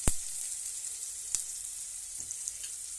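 Cashews fry in hot oil in a pan for vegetable vangibath, a steady high sizzle broken by two sharp clinks of a spoon against the pan, with faint scraping near the end and no talking.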